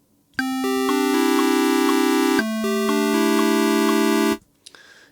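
Hand-drawn square wave from the Vital wavetable synthesizer, a hollow buzzy sustained tone playing a short sequence of held notes with a pitch shift midway, loud and alone, then a faint click at the end.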